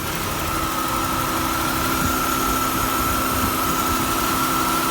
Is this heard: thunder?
no